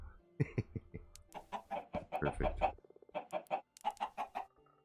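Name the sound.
chickens clucking in a video game, Minecraft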